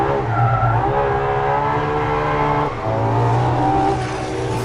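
A 950 horsepower mid-engine Ferrari LaFerrari driven at the limit, its engine roaring loud and close with a rising and falling whine, a brief dip in the middle and tire noise underneath.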